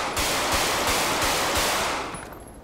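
Automatic gunfire in the video game GTA V roleplay, a rapid burst of about six evenly spaced loud shots over roughly two seconds, trailing off at the end.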